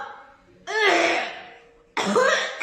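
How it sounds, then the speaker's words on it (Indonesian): Two harsh bursts of coughing from a person, the second following after a short pause, with a voiced, laugh-like edge. "Ikutan batuk gua"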